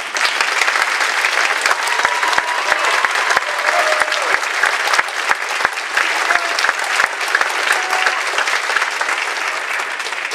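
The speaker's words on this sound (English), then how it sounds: "please stand for a big round of applause." Sustained loud applause from a large crowd at a college commencement, dense clapping filling the whole stretch with no break.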